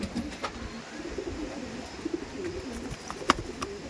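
Kalasabuj pigeons, a short-beaked fancy breed kept in a large loft, coo softly in scattered bursts over a hissy room background, with a sharp knock near the end and no speech.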